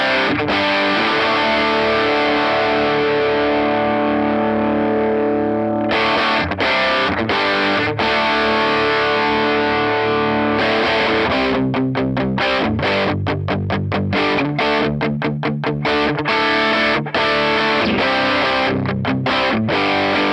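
Electric guitar played through a cranked amp model on a Tone Master Pro, thick with power-amp distortion: sustained chords give way to choppy, rhythmic stabs with sharp stops, loud and close with no talking.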